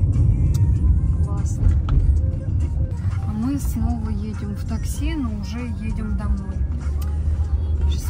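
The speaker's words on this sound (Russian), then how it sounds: "А мы снова едем в такси, но уже едем домой." Steady engine and road rumble fills a taxi moving through Bangkok traffic, with people talking inside the car over the continuous drone.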